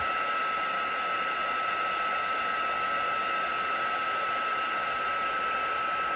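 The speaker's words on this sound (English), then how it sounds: "bring in the heat tool and heat this until we get that magic when the embossing powder does its work" A heat tool blows a steady, loud rush of air over embossing powder on card. The hot-air whine stays constant and unbroken the whole time, with no talking.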